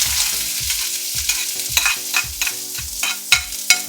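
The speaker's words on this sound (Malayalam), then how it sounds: "നമുക്ക് ഈ കൊത്തി അരിഞ്ഞ സവാള ഇതിനകത്തോട്ട് ഇട്ട് കൊടുക്കാം" Finely chopped onion fries in hot oil for vegetable cutlets. A spatula scrapes through it in a steady rhythm of roughly two strokes a second over a soft sizzle. The sound is close and there is no speech.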